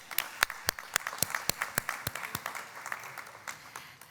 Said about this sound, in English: why don't we give her another round of applause?